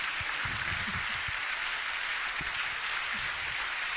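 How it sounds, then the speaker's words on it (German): Audience applause at a livestreamed talk by an astronaut about 200 days in space, a steady dense wash of clapping throughout, fairly quiet and distant-sounding, with no speech over it. "der Applaus ist großartig"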